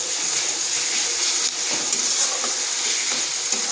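Ginger and onion fry in a pan with salt added, a steady close sizzle with faint stirring scrapes running throughout, no voices.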